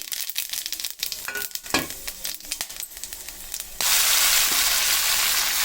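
Crackling sizzle of cinnamon, cloves, cardamom, fennel and garam masala frying in hot oil for cabbage curry, with scattered pops and stirring clatter, then a sudden loud, steady hiss that continues to the end.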